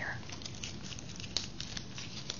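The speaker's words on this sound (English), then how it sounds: "I'm going to make some rustling sounds with my hands on either side of your ear" Soft, close rustling of hands rubbed beside the ear during a quiet bedside medical exam, a steady papery crinkle with a few sharper crackles, low and intimate.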